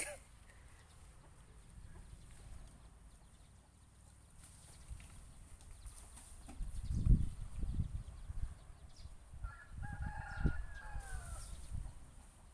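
Chickens cluck faintly in the background, with a few louder calls and a brief crow-like cry near the end, over a quiet outdoor hum.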